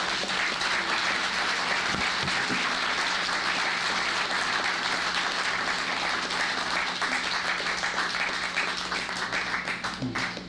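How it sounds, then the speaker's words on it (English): An audience gives the mayor a big round of applause, a thick, continuous roar of clapping that holds steady and loud throughout before easing slightly at the end. "give our mayor a big round of applause"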